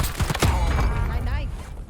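Sniper rifle gunfire in the Warzone Verdansk video game, a burst of sharp cracks and thumps in the first half second with a busy game backdrop carrying on behind.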